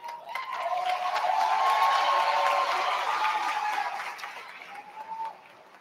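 A commencement audience at a Governors State University graduation bursts into sustained applause with scattered cheers and whistles, a broad wash of clapping that swells, holds for several seconds, then fades out.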